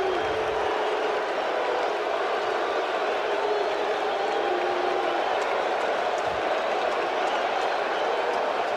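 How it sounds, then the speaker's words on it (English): Roaring stadium crowd at a World Series Game 6 baseball game between the Boston Red Sox and New York Mets, a dense, steady wall of cheering that stays loud and continuous throughout without breaks. "And this crowd going wild."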